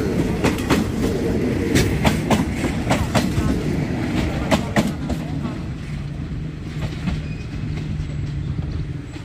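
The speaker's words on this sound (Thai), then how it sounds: "วนอุบลราชธานีกรุงเทพขบวนรถเร็วที่ 140 เข้าชานชลา 4บางซื่อ" Rapid train no. 140 from Ubon Ratchathani rolls into platform 4 at Bang Sue junction, with steady wheel clatter and rumble nearby, sharp rail clicks early on and a low horn-like tone later.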